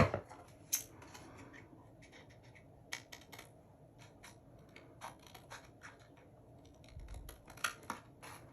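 Scissors snip and trim a paper craft tag, giving a string of short, crisp cutting clicks at irregular intervals, close and fairly quiet, with no talking.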